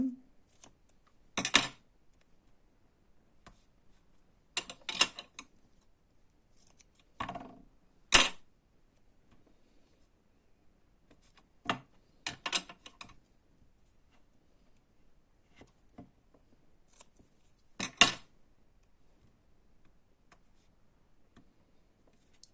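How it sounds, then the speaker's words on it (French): Short crackly rips and rustles of double-sided tape being handled and pulled while making a scrapbook album, in a few separate bursts with quiet pauses between them. "je mets mon scotch double face"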